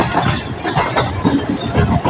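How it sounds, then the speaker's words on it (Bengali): A train pulls into Sealdah station with a loud, steady rumble of wheels and carriages, rhythmic rail clatter and a faint metallic squeal, all heard from on board or close by. "শিয়ালদা স্টেশনে ঢুকছে, দেখা যাক কত নম্বর প্ল্যাটফর্মে দেয়।"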